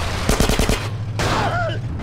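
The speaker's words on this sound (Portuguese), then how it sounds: "Esses arrombados dando tiro em mim" A quick burst of automatic gunfire in the video game GTA San Andreas, several close rapid shots over a low engine drone, followed by a pause and softer background noise.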